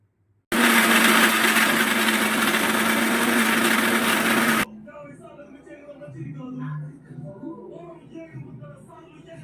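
A mixer grinder grinding henna leaves whirs loudly for about four seconds, then cuts off abruptly, leaving quieter talking and household sounds.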